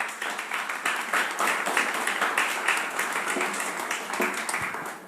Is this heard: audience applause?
yes